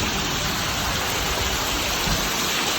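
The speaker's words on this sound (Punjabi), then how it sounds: "ਆ ਵੇਖੋ ਕਿੰਨਾ ਜ਼ਿਆਦਾ ਮੀਂਹ ਪਈ ਜਾਂਦਾਗਾ" A heavy downpour roars without a break, a thick wash of falling water close by, loud and even throughout.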